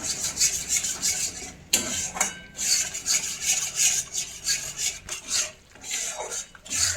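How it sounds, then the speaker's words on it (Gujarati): A spoon scrapes and rubs through flour roasting in ghee in a pan, making continuous rhythmic stirring strokes with brief pauses, close and moderately loud, with no speech. "તો આપણે આવી રીતે લોટને ઘીમાં મિક્સ કરી અને શેકવાનો છે।"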